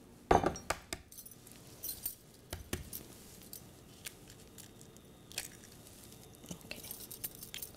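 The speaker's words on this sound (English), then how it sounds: "So I'm gonna just mix the egg." An egg being beaten in a bowl in a home kitchen, ready for frying tuna kebabs: quiet, irregular clicks and taps of the utensil against the bowl, with no one speaking.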